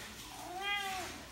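A cat gives one clear, drawn-out meow close by, rising then falling in pitch, over a quiet background with no one speaking.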